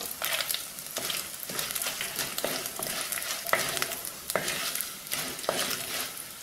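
Loud, crackling sizzle of cashews and dried red chilies frying in hot oil, with occasional stirring scrapes and pops, close and continuous.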